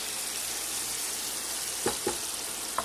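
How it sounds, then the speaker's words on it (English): Ghee sizzling in a pan of seafood sauce, a continuous hissing fry with a few short scraping stirs near the end, close and moderately loud. "I'm adding my ghee, people. My clarified butter."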